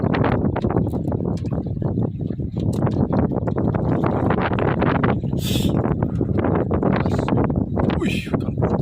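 Strong wind at sea buffets a fishing boat, with constant loud gusting and rumbling over the microphone and choppy bursts throughout, and a few brief hissy rushes near the end.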